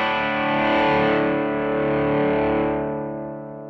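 An electric guitar runs through an Earthquaker Devices Speaker Cranker overdrive pedal: a single gritty, distorted chord rings out loud and close, sustaining and slowly fading over a few seconds, with no talking.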